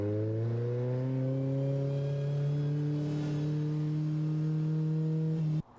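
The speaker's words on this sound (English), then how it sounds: "summer sounds like the screech of tires and the roar of engines." A race car engine roars at a speedway in a sustained drone, its pitch climbing slowly as it accelerates, loud and steady throughout.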